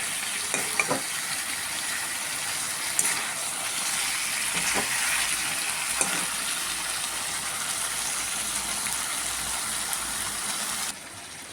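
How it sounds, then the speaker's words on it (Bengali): Chicken meat slowly fried and stirred in a pan for a Bengali chicken kosha, a continuous close sizzle with occasional scraping clacks of the spoon, alone and ending with a brief quieter tail. "মাংসটা আস্তে আস্তে করে কষিয়ে নিচ্ছি, একটু লাল লাল হয়ে গেছে"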